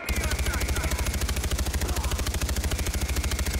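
In the video game Far Cry 4, an automatic weapon fires one long, rapid, evenly spaced burst, loud and close, as a magazine is emptied.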